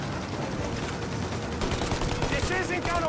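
Rapid gunfire from the Mafia: Definitive Edition video game, aimed at an aircraft's engines as it takes off, rattles as a dense continuous burst with shouting voices mixed over it.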